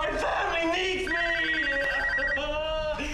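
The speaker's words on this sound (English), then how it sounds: "try to hit the phone. That's the longest ring." A telephone rings in a horror film scene from Saw (2004), a continuous bright electronic ring with harmonic tones held under reacting voices and background music.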